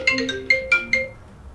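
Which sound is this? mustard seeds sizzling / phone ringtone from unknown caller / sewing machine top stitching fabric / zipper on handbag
phone ringtone from unknown caller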